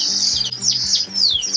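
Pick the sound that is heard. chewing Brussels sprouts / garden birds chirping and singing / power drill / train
garden birds chirping and singing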